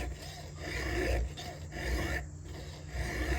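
A square hand file drawn across a chainsaw chain while sharpening it, producing repeated rasping strokes in a steady back-and-forth rhythm, close and fairly clear, with no talking.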